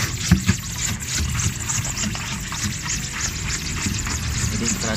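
Water splashes and trickles steadily while a brush scrubs ink off a screen-printing screen, a continuous hissing wash with a few sharper knocks near the start.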